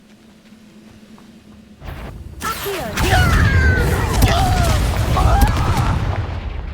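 A fire spell cast in the Hogwarts Legacy video game erupts with a sudden booming burst and then a loud, sustained roaring crackle of flames and effects, following a quieter stretch.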